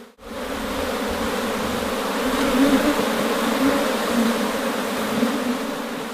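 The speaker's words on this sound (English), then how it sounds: "All the others, or most of the others, are worker bees, female bees." A dense swarm of honey bees buzzes steadily at an open hive, a continuous close, loud drone with shifting pitch and no voices.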